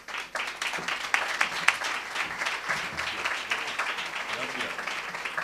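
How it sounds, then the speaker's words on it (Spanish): An audience at a flamenco club applauds a speaker, a moderately loud spread of clapping that swells early and stays steady, with some talk underneath. "Os pido un gran aplauso para nuestro querido Ángel Alberto Núñez Moreno."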